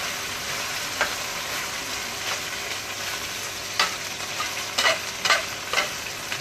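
Battered chicken breast frying in oil in a home kitchen, a steady soft sizzle with scattered sharp pops and spatters, close and moderately loud, no talking.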